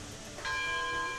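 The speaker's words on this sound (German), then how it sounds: "Okay, das ist die Glocke." A locomotive bell in the train simulation game Railroads Online rings once, a bright metallic strike that sustains and slowly decays, fairly quiet over faint background noise.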